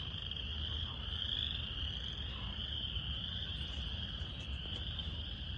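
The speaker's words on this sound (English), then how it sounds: "Hopefully my frogs aren't too loud." A dense chorus of frogs croaks and trills continuously, a steady high-pitched wall of calls with no pauses.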